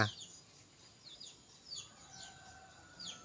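Wild red junglefowl calling in forest near a young tame decoy rooster, with several brief high chirping calls spread across the clip over a quiet outdoor background, moderately far.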